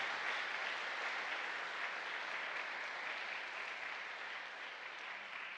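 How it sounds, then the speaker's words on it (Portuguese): A church congregation claps together during a Sunday service in a steady, even wash of applause. The clapping holds at a uniform level throughout, with no voices over it. "Você pode aplaudir a palavra de Deus?"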